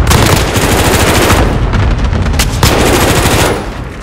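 Loud, sustained automatic gunfire from Call of Duty: Modern Warfare battle royale play, dense rapid bursts filling the whole stretch and easing slightly at the end.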